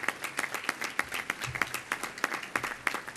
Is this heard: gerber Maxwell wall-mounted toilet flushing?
no